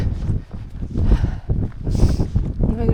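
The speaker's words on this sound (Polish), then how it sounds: "No wiatr straszny. Tylko wyszliśmy z lasku, od razu zaczęło wiać." Strong, blustery wind buffets the microphone in a continuous low roar, with gusts rising and falling throughout, on open ground at about 900 metres on the Kungsleden trail in Sweden.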